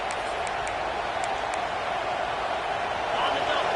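Roughly 75,000 fans in a college football stadium roar on third down, a loud, sustained wash of crowd noise that swells slightly toward the end, with faint claps and a play-by-play announcer talking over it.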